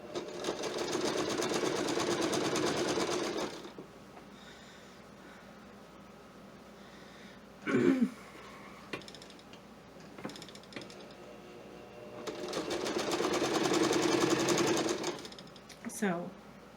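A sewing machine stitches binding onto a quilt, its steady close whirring hum running in two long bursts with a pause between, while small handling clicks and knocks fill the gap.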